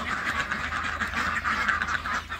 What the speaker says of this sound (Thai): ผมก็ปล่อยเป็ดยี่เหลียงออกมาเล่นน้ำนะครับมาผ่อนคลาย